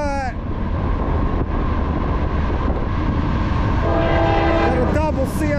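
A CSX freight train hauled by two locomotives rumbles past close by and loud, its horn blaring in sustained blasts at the start and again near the end.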